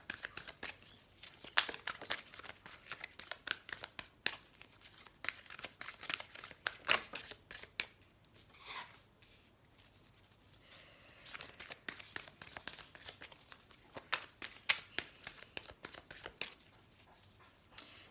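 A tarot deck shuffled by hand in quiet, close, crisp riffles and card flicks, with bursts of activity and a short lull in the middle. No voice.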